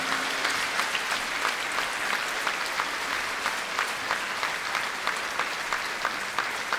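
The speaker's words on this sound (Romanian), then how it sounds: "Aplauze!" A holiday concert audience applauds with steady, dense clapping that runs without a break for several seconds, with sharper individual claps poking through the crowd sound.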